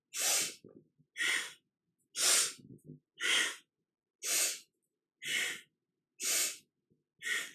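Eight strong, evenly spaced breaths, each a forceful breathy blast with short silent gaps between, from powerful rhythmic yogic breathing during a kundalini kriya, heard close and alone.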